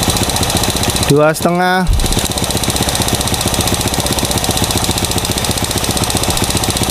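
A motorcycle engine idles steadily and loudly throughout during a test for leaking valves, its even low rhythm continuing under a brief spoken phrase near the start.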